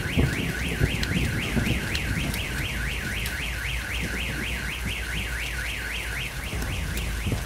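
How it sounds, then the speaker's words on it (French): A car alarm wails in a fast, steady up-and-down siren cycle throughout, loud and continuous over faint background noise, in the video game GTA 5. "Pourquoi il y a une alarme?"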